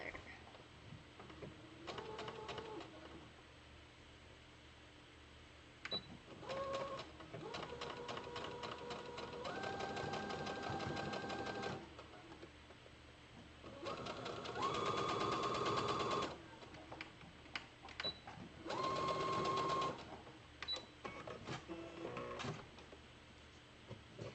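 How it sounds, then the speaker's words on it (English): Sewing machine stitching pieces of a t-shirt dress, running in several bursts of rapid mechanical whirring with quiet gaps between, some higher-pitched runs, nearby and without talk. "Going to sew these together."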